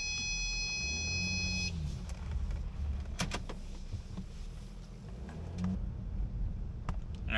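A diesel-swapped Wagoneer pulls away from a stop, its engine drone rising and falling as it accelerates, with a brief high electronic tone at the start and no talking.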